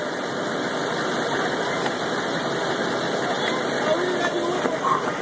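A car engine idles steadily right at the exhaust, a dense, even rumble with no revving, loud and constant for a few seconds.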